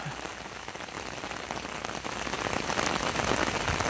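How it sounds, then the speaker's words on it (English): Steady rain falls at a small boat ramp on a river, a dense close patter of drops on surfaces, growing slightly louder over a few seconds with no talking. "Hopefully it won't rain too long, it'll pass"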